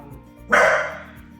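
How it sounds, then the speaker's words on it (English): A single sharp bark from a dog indoors in an apartment, loud and close, rising abruptly and fading over about a second against a quiet background. "Somebody left the apartment and closed the door, so Leo is now barking again"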